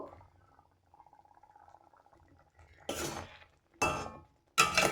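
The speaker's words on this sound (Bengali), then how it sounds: "এইভাবে নাড়াচাড়া করে খুব সুন্দর করে আমি একটি ডো রেডি করে নেব" Semolina is stirred into boiling water in a pot to make dough. A faint low bubbling is followed by three loud, short scraping clatters of a utensil against the pan.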